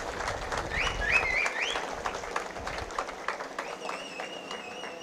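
Audience applause at a political rally in Goa, a dense spread of clapping from a crowd that swells early and then thins while continuing, with some high chirps or whistles over it.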